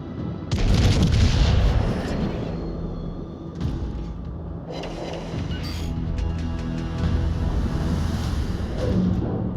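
Warship guns in the World of Warships Legends naval game fire in heavy booming salvos, a loud blast near the start and further rumbling shots rolling through the rest, with no talk.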